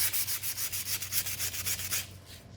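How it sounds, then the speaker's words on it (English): Painted furniture being lightly distressed with sandpaper to reveal original green paint beneath pink, a close, steady series of rhythmic scratchy back-and-forth strokes that stop near the end. "I'm gonna lightly distress with sandpaper and bring out some of that original green"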